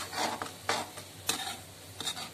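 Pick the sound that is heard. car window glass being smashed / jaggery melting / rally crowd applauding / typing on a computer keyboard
jaggery melting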